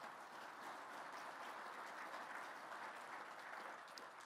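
A luncheon audience claps in a steady, even wash of applause, moderately distant and fairly soft, with no voices heard over it.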